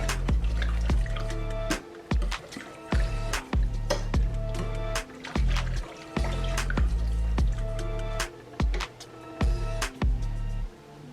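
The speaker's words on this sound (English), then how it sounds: "So let's start whisking this in together." A whisk works a paste into liquid for braised beef short ribs, giving loud, close wet clicks and sloshes in a steady rhythmic pattern, with no talking.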